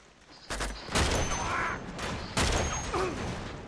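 Two loud, sharp shotgun blasts from gameplay in Uncharted 2, each a close booming crack followed by a decaying tail, with faint bird-like calls in between and a quiet ambient background.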